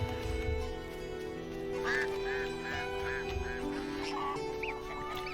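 Geese honk in The Witcher video game, a few short nasal calls in a loose sequence over a steady ambient game background, moderately near but fairly quiet, with no talking over them.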